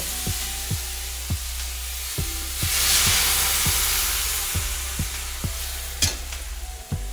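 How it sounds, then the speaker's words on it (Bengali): Water poured into vegetables frying in a little ghee, raising a loud surging steam hiss over the sizzle, with a regular series of spoon knocks against the pan throughout. "তো এবার এতে আমি জল দিয়ে দেব।"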